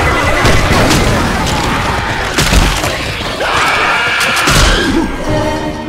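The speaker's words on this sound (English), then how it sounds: "Throwing a pipe bomb!" A pipe bomb explodes in Left 4 Dead 2 with loud booms, smashing crashes and scattered debris, amid chaotic game noise and gunfire, with several bursts over a few seconds.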